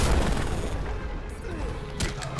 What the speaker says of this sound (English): And then I blast you with my cannons.